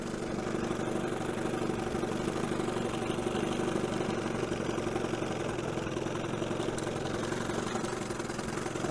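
A 1970 Evinrude 25HP outboard motor idles in gear, its steady low, uneven rumble running close and continuous from start to finish with no talking.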